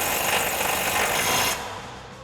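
A 21mm socket tightens the lower control arm nuts on a 2021-2025 Ford Bronco during a Rough Country 2-inch lift install, with a steady, loud mechanical whirring for about a second and a half that then drops to quieter background noise.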